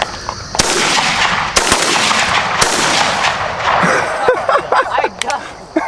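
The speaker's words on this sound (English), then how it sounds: "Y'all hit him like 3-4 different shots." Shotgun blasts ring out during an Ohio dove-hunting opener: several sharp, loud reports spaced a second or so apart, then quicker pops near the end, over outdoor background noise and people talking.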